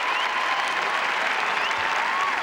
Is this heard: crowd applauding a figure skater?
yes